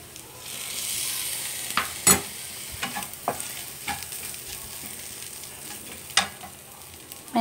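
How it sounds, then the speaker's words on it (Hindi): Vinegar hits fried rice in a hot pan, setting off a continuous sizzle broken by scattered clacks and scrapes of stirring, fairly close and with no talking. "अब हम इसमें ऐड करेंगे थोड़ा सा विनेगर।"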